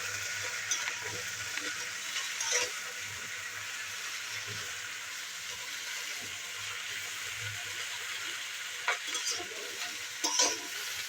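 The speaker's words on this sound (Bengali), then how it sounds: "এটাকে একটু ভাজা ভাজা করে নেব" Mixed village vegetables, including eggplant, fry in a pan for a dried-shrimp dish, making a low, steady sizzle with occasional stirring clinks and scrapes throughout.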